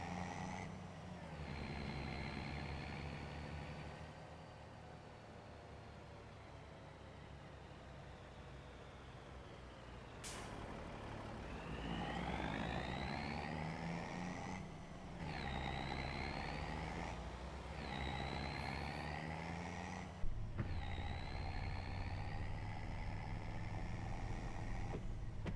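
Game truck in Farming Simulator 25 with a steady low engine drone idling and driving, rising and falling with gear changes and acceleration, plus a brief clunk near the end.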